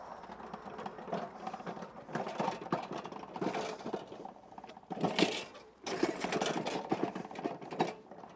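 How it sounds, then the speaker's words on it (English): A powered scarifier rakes across a lawn with a busy, rattling mechanical chatter, its motor buzzing under uneven scratchy bursts that swell and dip. "Today we're going to be using the scarifier to scarify the lawn"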